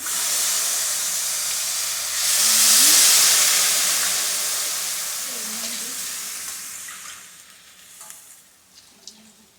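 Water poured into a hot pan for wheat rava kichadi. It makes a loud hissing sizzle that swells and then settles into a steady simmering hiss, with light stirring clinks near the end.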